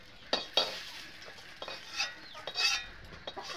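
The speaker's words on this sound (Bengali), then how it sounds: "নুন দিয়ে আমি আলু একটু ভাজে নেব" Potatoes fried in oil with salt for aloo dum are stirred in a pan, producing a soft sizzle under repeated scraping strokes of a spatula at close range.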